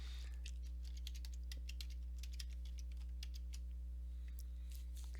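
Quick, irregular key taps on a computer keyboard, fairly close but soft, come in bursts over a constant low electrical hum.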